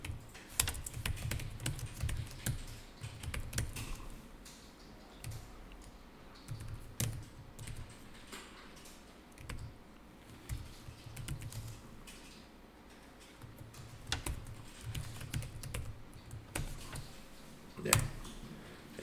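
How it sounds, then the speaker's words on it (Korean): Typing on a computer keyboard while entering an address into an accounting program during a practice class. Steady, fairly close key clicks run throughout in irregular bursts, with occasional louder keystrokes. "주소에다가 직접 여기다 타자를 하는 방식으로 입력하겠습니다"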